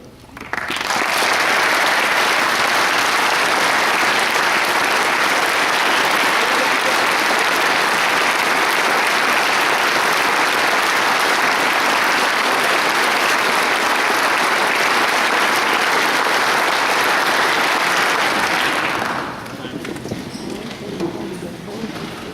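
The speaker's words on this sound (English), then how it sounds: "round of applause" Sustained loud applause from an audience at a Silver Star presentation ceremony fills the room for nearly twenty seconds, then drops off abruptly to quiet room sound.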